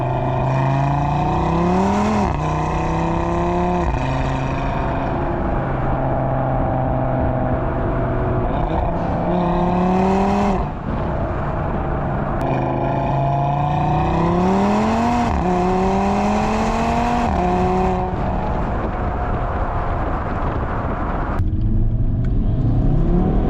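A 2019 Audi TT RS sports car engine revs repeatedly, pitch climbing and dropping through gear changes, loud and close with a raspy, continuous roar.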